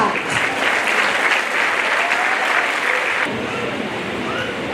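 Audience applause at a primary school event, a dense steady wash of many hands clapping that carries on throughout and eases slightly toward the end.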